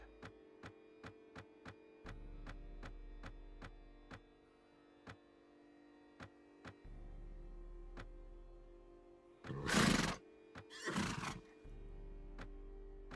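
Horses whinny twice in the A Clash of Kings video game, two loud bursts close together late in the clip, following a long run of faint, regular ticking clicks over quiet background.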